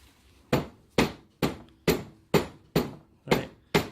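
Eight sharp, evenly spaced hammer blows drive a CV joint onto a Classic Mini driveshaft held in a vise, each a loud close metallic strike with a short ring, about half a second apart.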